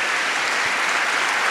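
Audience applause at a live public conversation with a singer: dense, steady clapping from a crowd, even and continuous throughout, with no voices over it.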